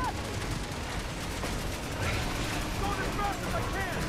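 Video game gunfire sounds as a dense, rumbling barrage of shots that stays steady throughout, with people talking over it.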